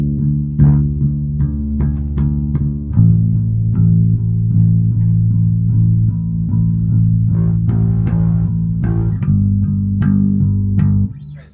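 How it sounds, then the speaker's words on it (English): Bass strummed with the pointer finger on quarter notes, a sustained, steady low chord pattern with soft even pulses that shifts pitch a couple of times, close and fairly loud with no talking. "just use our pointer finger and we're going to strum on each of the quarter notes."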